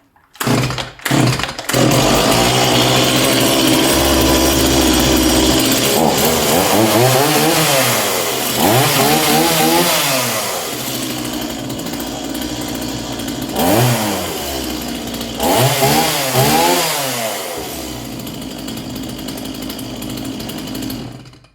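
A new Stihl MS170 gasoline chainsaw starts with a few pulls, then runs loudly, its engine repeatedly revving up and dropping back to idle, close by.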